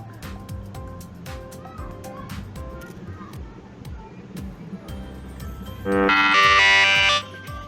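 A countdown timer buzzer goes off near the end, a loud, harsh buzz lasting about a second after steady ticking timer music.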